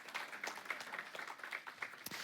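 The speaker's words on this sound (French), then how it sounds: "On peut applaudir." Applause in a church service, a short burst of scattered hand clapping at moderate distance, fairly faint and steady across two seconds.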